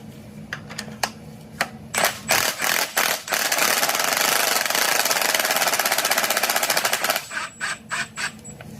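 An impact-style power tool runs a bolt back out on a third-generation Camaro during an LS swap. It starts with sharp, rapid bursts, hammers steadily for several seconds, then ends in short pulses.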